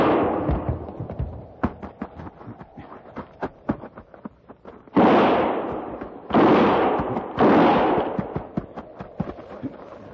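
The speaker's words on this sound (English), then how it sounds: "Start firing." Gunfire in an old-time radio western drama, heard as a rapid run of sharp shots and louder booming blasts that carry on through the whole stretch, loud and close, with no voices.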